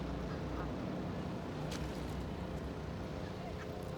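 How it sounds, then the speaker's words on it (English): Ducks quack faintly in the distance beneath a steady wash of outdoor lakeside noise, with occasional goose honks mixed in. "Got some ducks in the background just watching."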